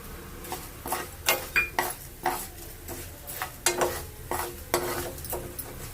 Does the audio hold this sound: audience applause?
no